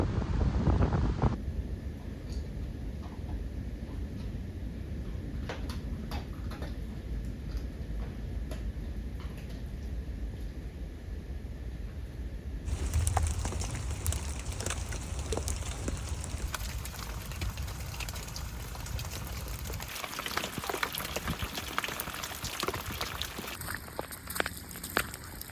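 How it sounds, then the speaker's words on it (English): Heavy rain and gusting wind buffet a cottage in a storm, a dense continuous wash of hiss and rumble with wind battering the microphone, loud and close throughout. "I've been trying to take a video of how much it is raining for a few times now"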